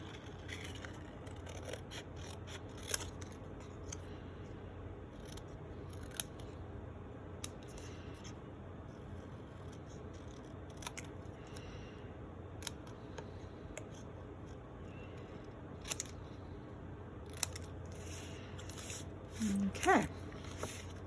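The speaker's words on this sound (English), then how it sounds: "Use the scissors to fussy cut that out" Scissors fussy-cut a stamped paper flower pot for a card, producing quiet, intermittent snips and paper rustles spaced every couple of seconds over a low steady room hum, with a brief louder scrape near the end.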